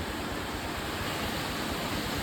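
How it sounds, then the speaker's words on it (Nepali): The flooded Arun river rushes beneath a road bridge, a dense, loud, unbroken roar of turbulent water filling the whole stretch with no voices. "आज एकदम ठुलो बाढी आएको छ। यो अरुण नदीमा यहाँहरूले देख्न सक्नुहुन्छ।"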